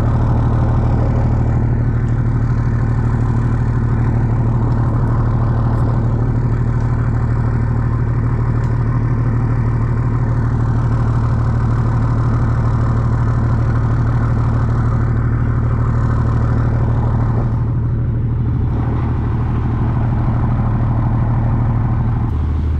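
A motor boat's engine idles steadily, with its exhaust routed behind the outrigger, a loud, close, continuous low chugging drone with slight clatter throughout and no talking.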